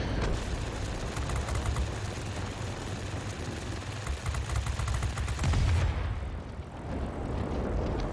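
Low-caliber machine guns on a Spitfire Mk Ia in a video game fire in long, loud, continuous bursts, a dense rattling roar with a brief lull near the end before firing resumes.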